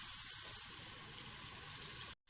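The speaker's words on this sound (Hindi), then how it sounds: "अब इसमें मैं 2 गिलास पानी मिलाने लगी हूँ।" Water pours steadily into a cooking pot of spiced potato rice after the masala has been fried until the oil separates, a continuous close splashing hiss lasting about two seconds before cutting off.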